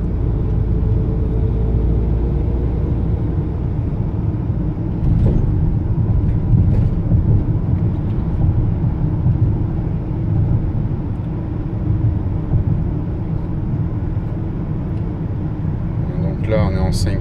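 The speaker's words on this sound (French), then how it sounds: "Là on est en 5e à 70 km/h, on est à 1400 tours minute." A 2016 New Jumpy 180 EAT6 van cruising at 70 km/h in fifth gear, a loud continuous low engine and road rumble filling the cabin, with someone speaking over it.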